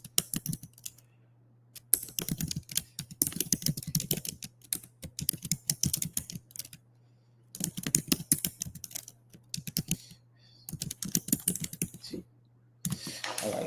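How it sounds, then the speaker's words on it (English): Rapid bursts of typing on a computer keyboard, close and clear, with short pauses between runs of clicking keys over a faint steady hum. "I'm just going to type it down."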